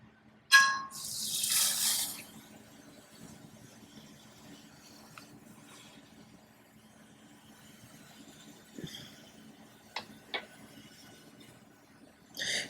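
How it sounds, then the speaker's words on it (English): A chunk of sodium metal dropped into water fizzes in a sharp hissing burst, then settles into a faint crackle with a few scattered pops and splashes over a low hum. "it's definitely fizzing, but this time the fizzing is a lot more vigorous than with lithium"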